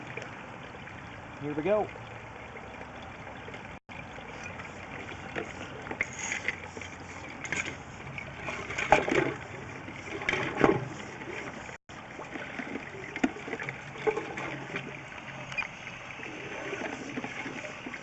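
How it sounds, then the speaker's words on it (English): Water runs steadily through a sanitary sewer line, a continuous close wash of flowing and trickling water, with a person talking briefly over it. "We currently have water running."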